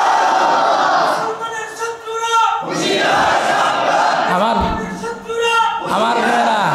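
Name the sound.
crowd chanting the takbir slogan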